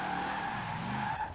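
A police car drifting in Forza Horizon 4, its tires squealing in a sustained, steady skid over a droning engine, loud and close for a brief moment.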